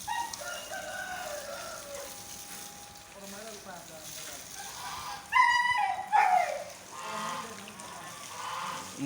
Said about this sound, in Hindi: मुर्गियाँ भी खुली छोड़ी होती हैं,